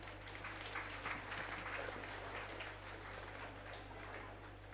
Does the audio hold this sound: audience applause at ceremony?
yes